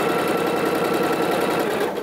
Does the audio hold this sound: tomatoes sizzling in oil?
no